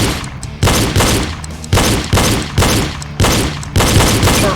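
Pistol shots fired in a shooting drill at targets set up at various distances, six loud sharp cracks at a steady pace about every half-second to second, each with a short echoing tail.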